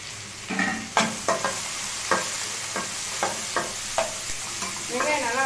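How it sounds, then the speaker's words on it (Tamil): Onions sizzle steadily in a hot pan while a utensil scrapes and stirs in repeated strokes. "வெங்காயம் நல்லா வதங்கட்டும்."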